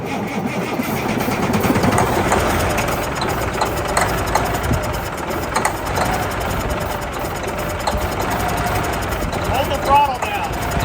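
A junkyard truck engine cranks and then settles into a rough, knocking idle, heard up close and moderately loud with faint voices mixed in.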